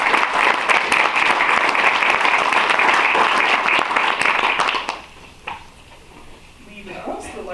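Wedding guests give a round of applause for the bridesmaids and best man, a full, dense clapping from a roomful of people that runs strongly for several seconds, then drops off abruptly to a few scattered claps and room murmur.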